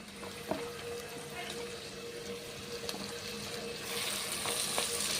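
Green chillies and an onion, ginger and garlic paste fry in oil for a goat-head curry, giving a soft, steady sizzle with a few light clinks of stirring.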